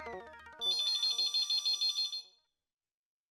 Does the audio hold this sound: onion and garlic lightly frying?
no